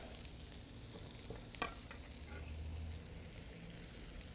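Corn and fennel fry in a pan with a steady low sizzle, interrupted by a couple of brief stirring scrapes near the middle.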